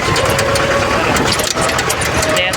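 A Mahindra tractor engine runs at a steady idle on a farm, a loud, close, continuous rumble that fills the whole stretch without letting up.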